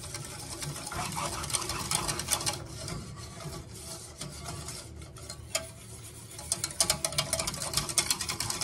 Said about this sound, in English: So I'm going to take just part of it and stir it in there.